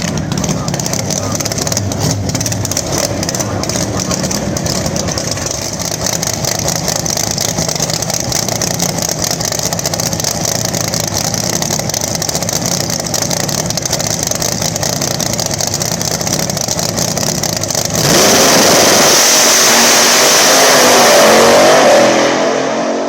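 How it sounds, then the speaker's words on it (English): A Pro Nitrous Camaro pro mod drag car roars through a sustained loud engine run at a drag race, its noise steady for about eighteen seconds, then shifting into a broader rush as the car pulls away, with an announcer talking over it. "Cam Clark, the Pro Nitrous Camaro. See what he can do"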